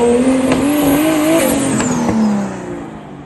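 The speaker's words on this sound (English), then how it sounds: "You can hear the turbo from all the way over here" A Toyota Supra's engine drones loudly with a rising turbo whine, revving and then easing off as it moves away.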